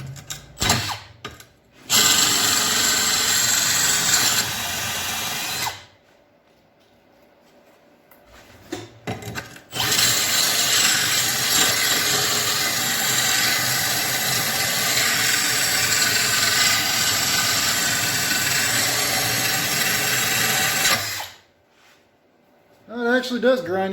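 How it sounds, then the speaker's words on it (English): A Grizzley blade sharpener grinds a lawn mower blade in long, loud, harsh bursts, two extended passes separated by quiet gaps, close and steady with a gritty high whine. "It actually does grind it pretty good."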